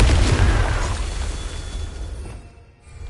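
A Confringo blasting spell going off in Hogwarts Legacy, a single heavy, booming explosion with a deep rumbling body that decays over a couple of seconds.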